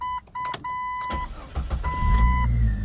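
A 1998 Jeep Cherokee started in neutral: repeated electronic warning chimes sound first, then the starter cranks briefly and the engine catches into a loud, rumbling idle, close up and without speech.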